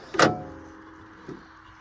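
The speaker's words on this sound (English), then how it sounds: "Let's pop the hood." Hood of a 2000 Mercedes CLK430 popping open, a sharp close mechanical clunk followed about a second later by a softer secondary thud, with quiet background otherwise.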